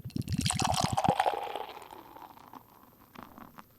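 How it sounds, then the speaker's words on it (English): Sierra Nevada "Little Thing" beer is poured from a can into a glass: quick glugging splashes at first, then a steady foamy hiss and fizz that slowly fades as the head settles. "Nah, I'm going to pour in a glass."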